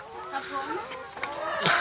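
Laying hens cluck close by on a farm in brief, overlapping calls, with a few sharper notes rising toward the end.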